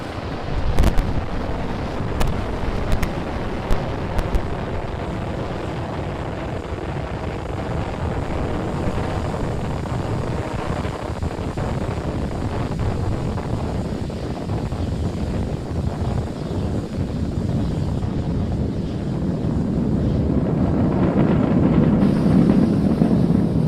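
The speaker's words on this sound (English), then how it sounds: "Falcon 9 has successfully lifted off from our pad 39A at the Kennedy Space Center" A SpaceX Falcon 9 rocket rumbles after lifting off from pad 39A at Kennedy Space Center, a loud continuous roar with a broad low rush that swells slightly louder toward the end, heard from a distance.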